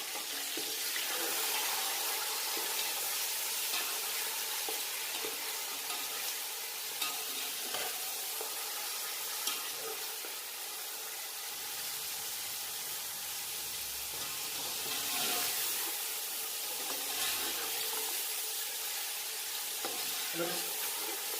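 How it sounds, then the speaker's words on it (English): Cooked mutton stirred into onions and spices in a hot pan, with steady close sizzling and frying hiss, scraping stir strokes and a brief run of tap water, continuing for about twenty seconds without speech. "And I'm going to add the mutton to it now, the cooked mutton."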